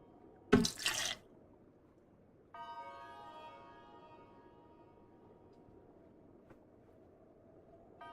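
Water runs from a tap for a drink: a short splashing gush, then a steady flow with a faint whining pipe tone, quiet and close, with no talking.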